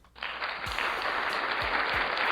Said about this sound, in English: Let me get a clap